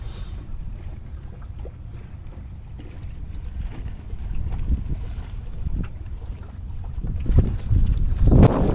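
Wind rushes steadily over a sailboat running under jib and mizzen only, breeze off the port quarter, a broad low roar with water movement that swells louder toward the end, no voices.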